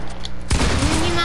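Video game gunfire bursts in abruptly after a brief quiet moment, a loud close volley of shots followed by a ringing tail.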